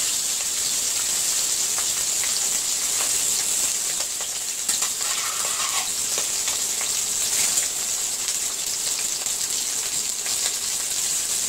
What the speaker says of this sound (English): So first thing I'll do is I'll fry the fish pieces.